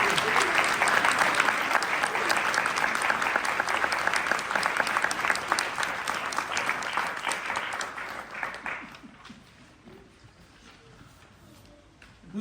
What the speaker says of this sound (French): Pour ces spectacles, on peut les applaudir